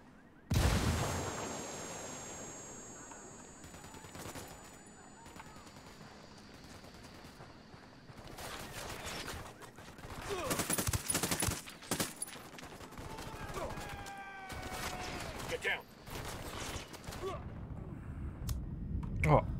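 A grenade blast and bursts of rapid gunfire ring out in Ghost Recon Wildlands, loud sharp cracks and rattling volleys rising and falling over several seconds amid voices.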